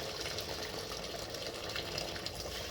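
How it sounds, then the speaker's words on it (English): Water pours steadily into a soup pot, a soft continuous splashing gush with no talking. "I'll just add the first batch of water."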